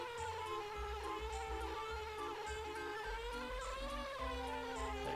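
A bee buzzes with a steady, thin drone in the platform video game Banjo-Kazooie, quiet and continuous beneath soft background tones.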